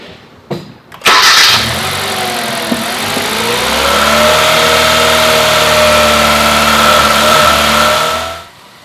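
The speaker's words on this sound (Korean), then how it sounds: "시동 걸고 다시 워밍업 시켜서" A car engine cranks briefly and catches, then settles into a loud, steady idle that rises slightly as it warms up, holding for several seconds before cutting off.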